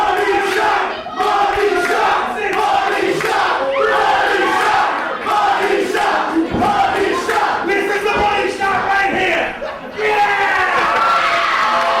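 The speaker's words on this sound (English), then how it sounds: "The fans chanting for money shot, which obviously is Val Venis' signature maneuver from the top rope." A dense wrestling crowd at an ICW independent show roars and chants for Val Venis' top-rope Money Shot finisher, a loud, sustained wall of massed voices with rhythmic surges that never drops out.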